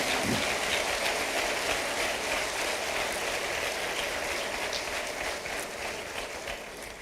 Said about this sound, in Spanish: Dele otro aplauso al Señor.